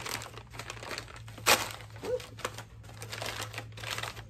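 A small paper bag of mail-order garden seeds crinkles and rustles as it is opened, with close, uneven bursts of crackling and one sharp crunch partway through.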